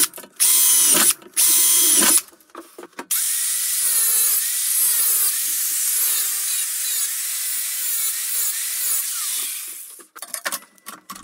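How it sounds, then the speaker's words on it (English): Power tools cutting through a metal drum: loud drilling bursts with short gaps, then a sustained harsh angle grinder whine lasting several seconds before tailing off into brief clatters. "I then drilled holes within the shape and finished cutting with an angle grinder."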